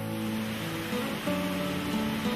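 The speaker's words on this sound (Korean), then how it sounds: "가이사랴 빌립보 근처에 있는 바니아스 폭포입니다." Banias waterfall near Caesarea Philippi in Israel, a steady, dense rush of falling water that holds an even roar throughout, with no voices.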